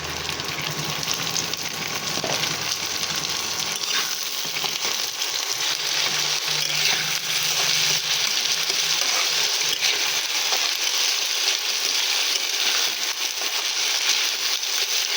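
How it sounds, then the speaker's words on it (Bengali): Washed chana dal frying with onions in hot oil in a pan, a loud, steady sizzle that continues without a break, with faint stirring scrapes. "এটাকেও বেশ কয়েক মিনিট ভালোভাবে পেঁয়াজের সাথে কষিয়ে নেবো আমি"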